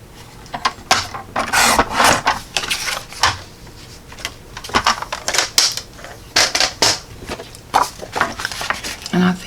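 Card paper for a Christmas card is trimmed on a paper cutter, giving a run of close, crisp scraping and slicing strokes in uneven bursts, with a voice talking over them.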